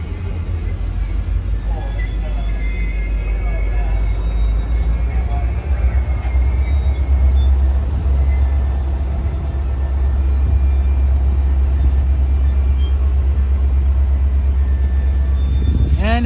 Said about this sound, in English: Yep, the train's coming to a stop.